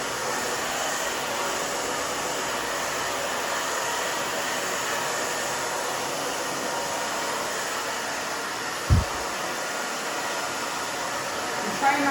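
Hair dryer blowing steadily while curly hair is being dried, a loud constant close whoosh filling the whole stretch, with a brief thump near the end and faint voices beneath.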